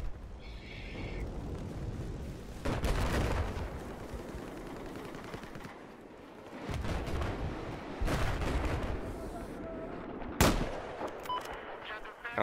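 Repeated gunfire from the video game Battlefield 4, with sharp bursts and single loud shots around three, eight and ten seconds over a constant noisy battlefield background, with no talk.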